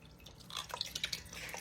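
Liquid poured into a crock pot over cubed steak, a series of small drips and splashes that quicken and grow louder midway, with quiet room hiss beneath.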